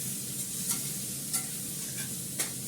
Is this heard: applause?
no